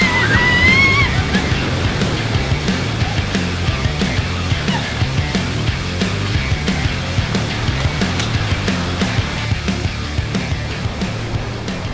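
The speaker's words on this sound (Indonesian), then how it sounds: "Jadi lumayan deras ombaknya." Strong ocean waves wash and slosh continuously over coral rocks along a shoreline, a steady dense roar of surf with brief higher splashes, close and loud throughout.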